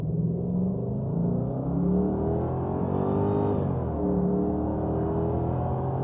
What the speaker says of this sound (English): now what I'll do is a sport acceleration to 60, full bore, in automatic